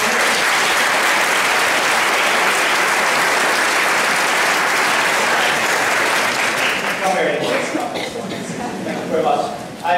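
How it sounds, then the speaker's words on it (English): A crowd at a school Christmas concert claps steadily for several seconds, then the applause thins out and a voice begins talking near the end. "Can we give him a little round of applause?"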